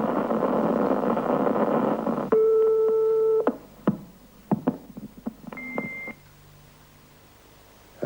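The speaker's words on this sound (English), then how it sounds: "I can dial that up on an international call" A Prestel videotex terminal dials an international call to Berlin, with steady tones and beeps, short tone bursts and clicks, then a higher tone before the line goes quiet.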